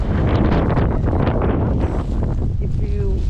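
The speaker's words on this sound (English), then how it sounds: "if you are here and with the wind, and if it hits your face, it's a little bit you know, it hurts" Strong wind buffets the microphone outdoors during a New York City snow storm, a loud continuous roaring gust with a voice speaking underneath.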